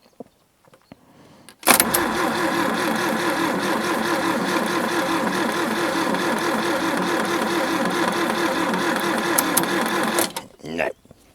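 An old Daihatsu 4x4 engine being cranked by the starter for about eight seconds, a fast loud mechanical whirring churn that fails to catch, then cuts off; quiet before and after.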